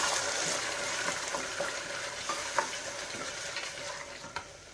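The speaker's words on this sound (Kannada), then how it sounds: "ಒಂದು 2 ನಿಮಿಷ ಇದು ಎಣ್ಣೆಲೆ ಚೆನ್ನಾಗಿ ಫ್ರೈ ಆಗಲಿ" Beans and onion frying in oil in a pan, a loud, dense crackling sizzle with scattered sharp pops and stirring scrapes, close and continuous, with no voices.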